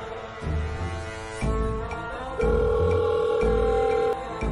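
A telephone rings for an incoming call with steady, repeating electronic tones that step up in loudness across a few seconds, heard alone with no talking.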